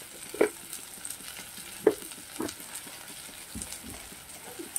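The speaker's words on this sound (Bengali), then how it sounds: "এটাকে ভালো করে মশলার সঙ্গে ভাজবো।" Vegetables fry with salt and turmeric in a pan, a soft steady sizzle broken by occasional scraping stirs, close and fairly quiet.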